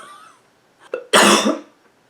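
A single harsh cough bursts out close by, preceded by a faint throat sound, then quiet.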